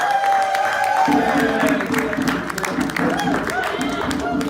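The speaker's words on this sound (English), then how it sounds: "Everybody applaud now. Big noise" An audience at a Ward 8 Kwanzaa celebration claps and cheers loudly and steadily, a dense crowd roar mixed with voices that swells after the first second and keeps going.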